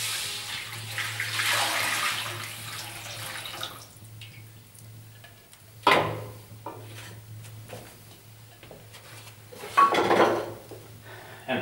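Heated water is poured into a frying pan of hot oil while cooking mandrajos, a soft continuous pour followed by quieter spells and a couple of sharp metallic clanks of cookware.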